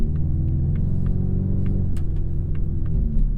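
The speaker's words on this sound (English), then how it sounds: "You know what is aggressive though is the exhaust on this performance pack." Exhaust from a 2025 Ford Mustang EcoBoost with the performance pack gives off a deep, steady close-up rumble with a faint rhythmic ticking over it.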